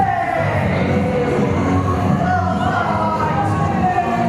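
Wrestling-show crowd jeering and yelling in a sustained, dense roar of voices with a steady, loud wash of boos and shouts.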